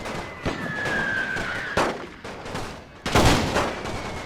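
Mortar blasts and gunfire crack in The Great War video game, with three sharp reports spread over several seconds and a whistling tone fading before the second one, and no voices.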